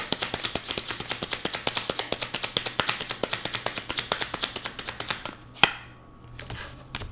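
Tarot cards riffled in an uneven shuffle, a rapid run of crisp, close paper flicks for about five seconds, then a single sharp snap and a brief softer rustle.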